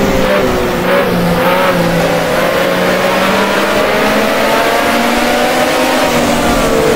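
A Renault racing car engine in the video game Grand Prix Classics 1979 drones loudly and continuously, its pitch climbing slightly as it accelerates, with no talking over it.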